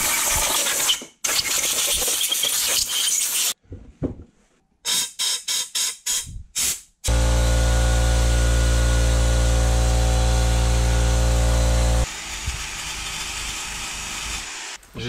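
An engine block from a Monkeybusa Turbo is cleaned with power tools and spray, giving bursts of harsh grinding, a string of short stuttering tool pulses, then a long steady loud hum that eases into a lower whir.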